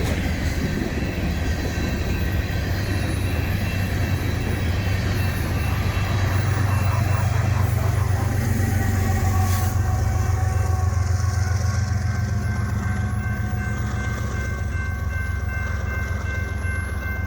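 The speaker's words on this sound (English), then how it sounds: "I heard the westbound empty coal train was cleared to proceed, so I went to a country crossing to get a better shot of yet another executive scheme locomotive." A BNSF westbound empty coal train led by an executive scheme locomotive passes a country crossing, a loud continuous rumble of wheels and rolling wagons with a steady low engine drone, close and sustained throughout.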